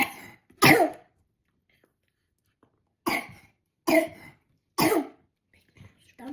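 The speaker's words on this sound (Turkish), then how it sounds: "oy oy öksürük öksürük öksürük" Coughing in a kitchen during work on a biscuit cake: four short, loud, harsh bursts spread out with quiet gaps between them, and no talking alongside.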